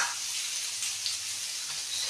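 Onions sizzle and fry steadily in a hot pan with snake gourd, a dense, even crackle that stays close and continuous with no voices over it.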